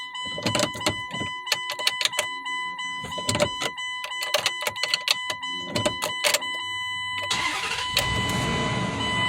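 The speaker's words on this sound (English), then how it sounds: "So right now we're gonna turn on the car and see how the needle operating." A 2004 Dodge Durango with a newly replaced thermostat and air in its cooling system is started, giving repeated sharp cranking bursts and clicks before the engine catches and settles into a steady idle rumble; no one speaks.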